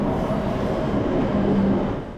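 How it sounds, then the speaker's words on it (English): A Shinkansen E7 bullet train pulls into the station with a dense, close rumble and rushing air. The sound holds steady, then eases off at the end. "Our train pulls in around 15 minutes before scheduled departure on its inbound service."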